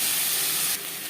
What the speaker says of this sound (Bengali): মাছ ভেজে নেওয়া কড়াইতে আবারও তেল দিয়েছি। দিয়ে দেবো পেঁয়াজ কুচি।